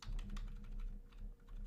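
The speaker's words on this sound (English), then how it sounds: "I'm using my arrows on my keyboard to arrange things slightly" Computer keyboard keys tap in a quick, irregular run of soft clicks as arrow keys are pressed, close and fairly quiet over a low steady hum, with no talking.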